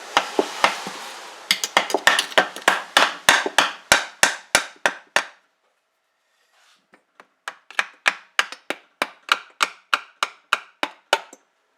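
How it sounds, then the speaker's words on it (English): Hammer blows knocking loose a stuck part on a 3hp Briggs & Stratton small engine during teardown: a rapid run of about twenty sharp close strikes, a brief pause, then another steady series of lighter taps. "So, I'm going to take a hammer."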